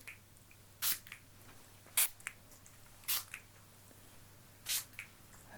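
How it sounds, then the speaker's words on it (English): Four short, close spritzes from a small spray bottle at a relaxed, uneven pace, each a soft hissing puff standing out against a quiet room. "And we're just going to spray a little."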